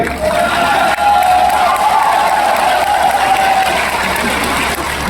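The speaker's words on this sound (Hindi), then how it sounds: "ताली बजा रहे हो" Applause and cheering from a large crowd at a Congress party public rally, a steady dense wash of clapping with a brief dip near the one-second mark.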